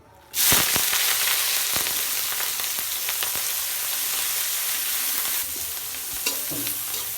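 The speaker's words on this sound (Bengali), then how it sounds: "পেঁয়াজ মরিচ ভাজা হয়ে গেছে, এবার সিমটা ঢেলে দেব।" Onion, chili and garlic fry in oil in a wok: a loud, dense sizzle bursts in after a quiet start and continues steadily, punctuated by sharp stirring clicks and scrapes, with no voices.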